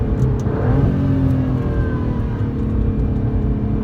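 An Aston Martin DB11 revs hard as it accelerates along a road, its engine note rising in pitch close to the microphone. The sound is loud and steady, with no talk over it.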